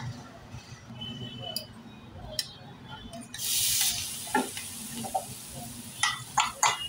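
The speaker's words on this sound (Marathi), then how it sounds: "जी चटणी आपण केलेली आहे ना ती थोडी तेलामध्ये परतवून घ्यायची आहे।" Dried shrimp chutney is tipped into hot oil and sautéed, a loud burst of sizzling followed by steady frying and sharp spatula clinks and scrapes against the pan, up close.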